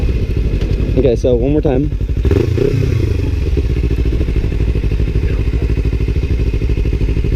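A Kawasaki Ninja 300 motorcycle with a slipper clutch runs with a steady, loud engine drone throughout, with a brief clatter partway in, while a person talks over it.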